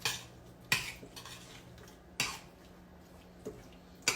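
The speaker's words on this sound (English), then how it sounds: "Kind of stir this around." Utensil stirring asparagus with garlic in a metal pot, giving a few sharp scraping clinks at irregular intervals over a quiet kitchen background, with no talking.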